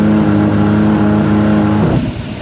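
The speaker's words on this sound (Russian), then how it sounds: "И мотор встал." A motor glider's engine drones steadily with strong harmonic tones, then falters and winds down to a stop near the end, its pitch sagging as the running note cuts out and only low rumble remains.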